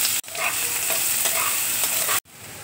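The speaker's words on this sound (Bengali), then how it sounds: "কড়াইয়ে দেখো তেল দিয়েছি, তেল দেখো গরম হয়ে গেছে। এবার আমি পেঁয়াজ কুচি দেখো দিয়ে দিচ্ছি" Chopped onions frying in hot oil in a wok give a steady, loud, close sizzle with light stirring scrapes, starting and stopping abruptly.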